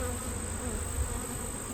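A dense, continuous drone of honey bees buzzing around an open hive during an inspection, steady and close with no voices.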